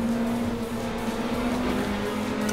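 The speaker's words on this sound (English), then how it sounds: "So here we are in Assetto Corsa in the BAC Mono" Simulated BAC Mono race car with a 2.5-litre Mountune Duratec engine in the racing game Assetto Corsa, a steady droning engine note holding a constant pitch, loud and continuous with no voices.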